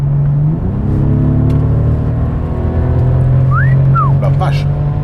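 A Bentley Continental GT's W12 engine accelerating in sport mode from around 100 km/h, a steady loud drone rising slightly in pitch with a faint whine on top, heard from inside the cabin.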